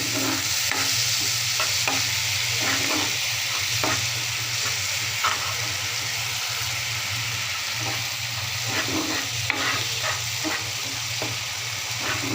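Masala spice paste sizzles and fries steadily in a pan with a little water added, with regular stirring scrapes and clinks throughout, close and continuous, no voices.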